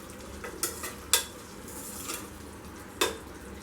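Elephant foot yam gravy is stirred in a pan with ghee, a spoon scraping and clinking against the metal in a few sharp strokes over a soft background sizzle.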